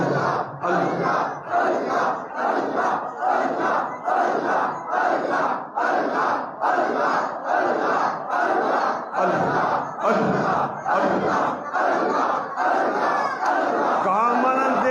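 A large crowd chants Allah in unison with raised hands, a rhythmic, repeated surging group cry that pulses steadily, loud and continuous throughout.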